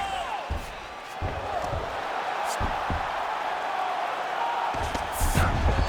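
Arena crowd at a UFC heavyweight fight cheering and roaring steadily, a continuous loud wash of noise with occasional sharp thumps, under commentary voices.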